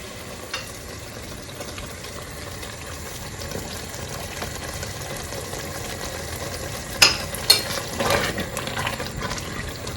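A spoon stirs vegetarian dawadawa jollof rice in a cooking pot, soft scraping and bubbling over a low background hiss, with a few sharper clinks near the end.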